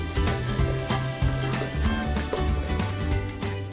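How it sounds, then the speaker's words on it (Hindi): Panch phoron seeds crackle and sizzle steadily in hot oil as they are stirred, a close, continuous frying hiss with small popping bursts and no talk. "इसको अच्छे से मिक्स करेंगे ताकि ये सारे सीड्स क्रैकल हो जाएं"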